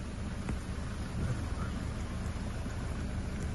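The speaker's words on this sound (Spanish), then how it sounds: "está empezando a llover aquí, está empezando a llover" Rain beginning to fall at a flood-relief shelter in Guajiniquil, Guanacaste, Costa Rica: a steady, close hiss of rainfall with a low rumble beneath, continuous throughout and free of talk.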